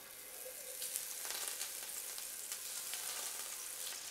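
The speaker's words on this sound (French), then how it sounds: "un sautoir bien chaud, on y va, on y met de l'huile d'olive, un beau morceau de beurre" Olive oil and a knob of butter sizzling in a very hot sauté pan while making veal jus, a dense, steady hiss up close with faint crackles and no talking.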